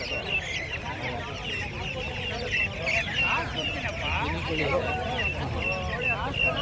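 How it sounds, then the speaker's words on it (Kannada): Native cross chickens cluck and squawk continuously at a poultry market in Chandapur, amid a noisy crowd with people talking throughout under the birds. "ನಾಟಿ ಕ್ರಾಸು ಕೋಳಿ ಮರಿಗಳು ಅದೇ ಇದ್ದಾವೆ"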